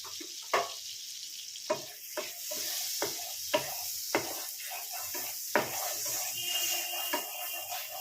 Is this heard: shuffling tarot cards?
no